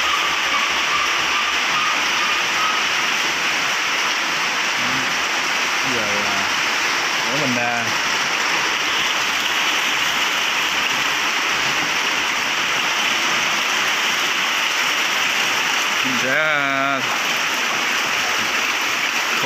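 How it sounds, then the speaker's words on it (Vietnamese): Steady broadband hiss of cold, persistent all-day rain runs through the whole stretch, with brief bits of a voice speaking over it now and then. "mưa từ sáng giờ luôn rồi, mưa dầm luôn, mưa lạnh lạnh luôn á"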